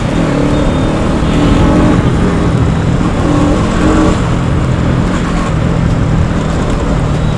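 Motorbikes and other road traffic stream past on a busy road, a loud, continuous roar of engines and passing vehicles with no break across the whole stretch.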